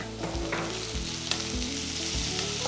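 Slit green chili and sliced garlic sautéing in hot oil for a Kerala kadachakka (breadfruit) curry, a close, steady sizzle broken by a few rhythmic scraping stirs of the pan, no voices.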